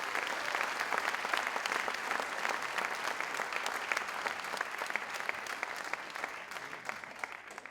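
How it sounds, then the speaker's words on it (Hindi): Sustained audience applause at an indoor motivational event in Mumbai, steady dense clapping from a crowd, moderately distant and even throughout. "एक जोरदार तालियां मेरे अपलाइन के लिए देनी चाहिए।"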